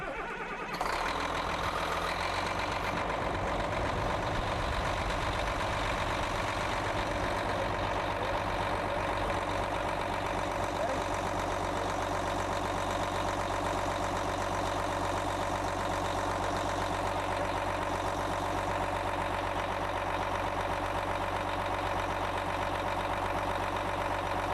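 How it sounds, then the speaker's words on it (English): A machine engine is started up for fluid sampling, then settles into a loud, steady idling rumble that runs continuously and evenly with no talking. "I'm going to have my assistant go ahead and start the machine up for us now."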